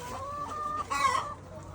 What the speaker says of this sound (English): Organic chicken.